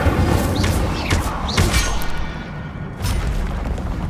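Incendio fire spell blasts in the Hogwarts Legacy video game, three quick whooshing bursts close together followed by a heavy rumbling boom, loud and dense with no talking.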